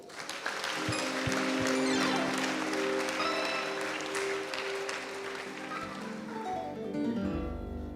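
A church congregation bursts into sustained, loud applause in praise of Jesus, a dense wash of many hands clapping together that carries on steadily before tapering off near the end.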